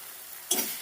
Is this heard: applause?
no